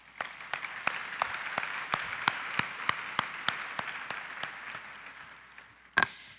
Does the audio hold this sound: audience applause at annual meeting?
yes